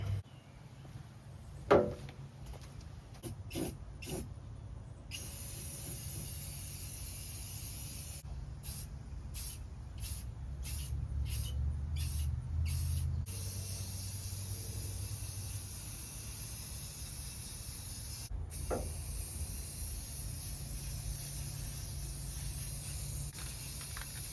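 Bursts of black gloss enamel aerosol spray paint hissing steadily on a van, with short pauses between sprays and a continuous long hiss near the microphone.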